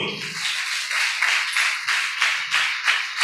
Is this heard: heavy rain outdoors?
no